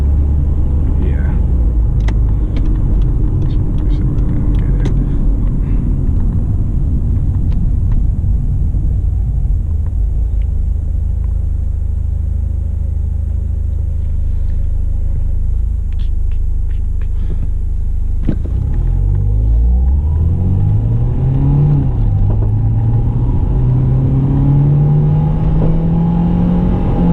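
The engine of a Mercedes W201 190E/180E rumbles steadily while driving and rises in pitch as the car accelerates near the end. Someone talks over the engine noise.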